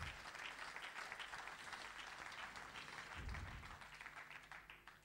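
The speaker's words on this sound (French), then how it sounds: "Applaudissez le Seigneur." A church congregation applauds continuously throughout, a dense, sustained wash of many hands clapping heard alone, fairly distant and moderately loud.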